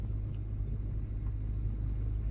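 A car with the clutch fully pressed rolls in second gear without throttle, giving a steady low road rumble and faint engine hum throughout, close and even, no voices.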